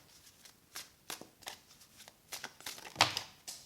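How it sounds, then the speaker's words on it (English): Tarot cards being shuffled in quick riffling bursts, several short rustling flurries spaced about half a second apart, close and fairly quiet. "we're going to shuffle for pile number 2"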